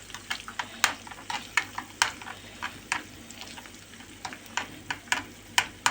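Eggs frying in a pan with hot peppers, a steady soft sizzle broken by sharp little crackles and pops at an irregular rhythm, close by and moderately quiet.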